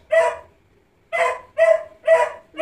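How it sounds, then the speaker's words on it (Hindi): A dog barks close by in a home, four or five sharp, loud barks in an irregular rhythm with short silent gaps between them, and no one speaking. "देखो कुत्ता भी भौंके जा रहा है।"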